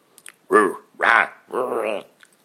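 A voice imitates a dog barking with three drawn-out, close, loud woof-like calls spaced about half a second apart.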